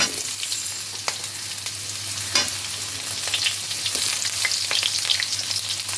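Potato and pumpkin pieces fry in hot oil in a pan, making a steady, close sizzle scattered with small stirring clicks and pops, with no voices.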